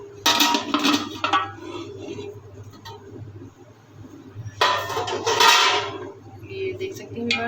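Cooked mung dal rice being scooped out of a pot, with two loud bursts of clattering spoon-on-pot scraping and clinking, separated by a quieter stretch with a steady low hum beneath.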